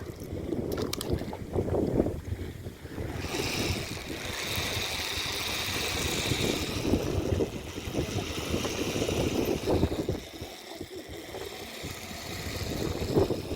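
A fishing boat's engine runs at sea off Tongyeong during hairtail fishing, a steady, fairly loud drone with wind and water wash, continuous for the whole stretch with no voices.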